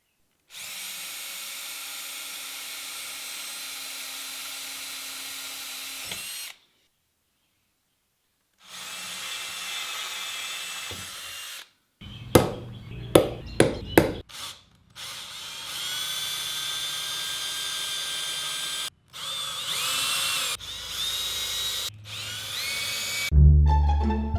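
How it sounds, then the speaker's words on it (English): A drill press bores a hole into a homemade wooden drill press table: the motor whirs steadily, stops, restarts, and then gives bursts of grinding and rubbing as the bit cuts the wood, loud and close with no speech. "I just need to drill for 1 more hole"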